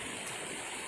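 A creek fed by a forest on an Ottawa-area farm on the Ontario side flows steadily, a close, even wash of running water with no breaks or other sounds.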